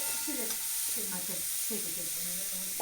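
Chopped onions sizzle and crackle in a hot pan, dry-roasting for a homemade morning meal, with soft stirring scrapes recurring every second or so under a steady hiss, close by and with no talking.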